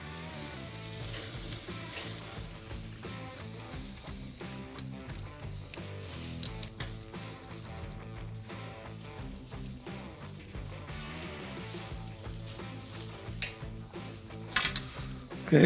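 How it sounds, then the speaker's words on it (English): New York strip steaks sear in a pan with butter, a continuous hiss and crackle that sits under steady background music, with a few sharper pops near the end. "we're gonna sear the New Yorks now"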